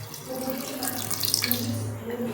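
Water poured into a cooking pot for brinjal (eggplant) biryani, a close, steady splashing gush lasting a couple of seconds over a low kitchen hum.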